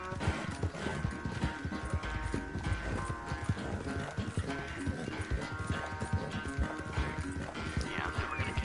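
Galloping horse hooves pound steadily in the video game Red Dead Redemption 2, a fast, continuous rhythm close up and loud, layered with game music and ambient noise.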